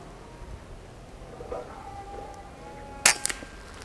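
A single sharp crack of a rifle fired at a target through a Taurus HD Gen II riflescope, sudden and loud near the end after quiet ambient background, with a faint ringing tail.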